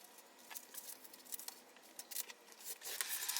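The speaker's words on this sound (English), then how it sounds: "sort of fold it in half so I can make it all in one cut." Scissors cut through a folded sheet of paste-the-wall wallpaper in one pass. Quiet, crisp snipping and rustling come in quick irregular bursts and grow a little louder toward the end, with no voices.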